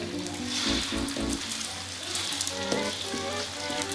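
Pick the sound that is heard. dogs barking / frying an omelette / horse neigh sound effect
frying an omelette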